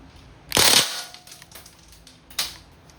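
A CO2-powered DPMS airgun rifle by Panther Arms fired on full automatic: a sharp burst of rapid shots lasting about a quarter second, then a single crisp crack a moment later, with quiet faint clicks between.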